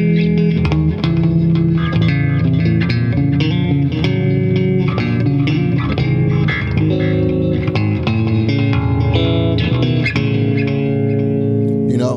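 Eight-string extended-range guitar played through effects, with distortion and chorus, dense notes reaching down into a bass-like register, loud and continuous without talking.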